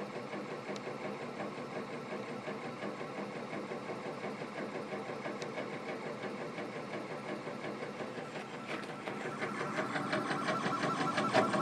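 A laser engraver works steadily while marking a drumstick, giving a faint, even mechanical whir with a regular pulsing ticking that grows slightly busier and louder toward the end, with no voices.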